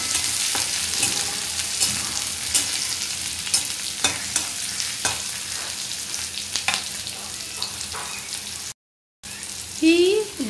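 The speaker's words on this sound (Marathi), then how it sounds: "लसूण जास्त लालसर होईपर्यंत भाजायचा नाही," Garlic sautéing in a pan for a dill leaf stir-fry crackles and sizzles close by, with repeated stirring taps, a brief silent gap, then a louder burst of frying.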